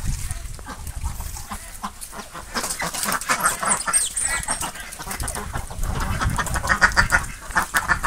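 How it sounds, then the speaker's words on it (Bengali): Many ducks quack together at a farm, a dense, continuous chorus of overlapping calls at close range, with some clucking fowl mixed in and no talk. "এই সাইডেও আছে অনেকগুলো হাঁস।"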